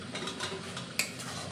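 Ginger paste going into a cooking pan on a gas stove, with a soft steady sizzle and one sharp metallic clink of a utensil against the pan.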